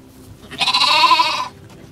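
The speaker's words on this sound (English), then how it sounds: "Sheep, sheep, sheep." A single sheep bleat in Morocco, about a second long, wavering and close, with quiet background before and after.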